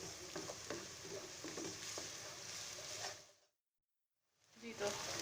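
Onions for a mutton achari gosht sizzle and brown in a hot pan, a dense steady hiss with light stirring taps, cutting to silence briefly before the frying resumes.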